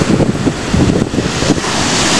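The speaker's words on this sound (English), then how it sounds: "There you go, there's the sea." Heavy, rough sea waves surge and wash continuously at Brighton at night, a loud roaring surf layered with buffeting wind noise on the microphone throughout, and no voices.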